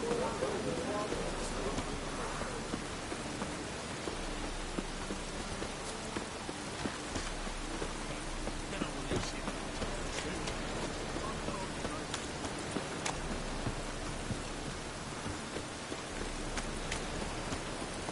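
Steady rainfall in the Witcher 3 game world, a soft continuous patter on surfaces throughout, fairly quiet and even, with faint scattered footsteps or hoof sounds beneath.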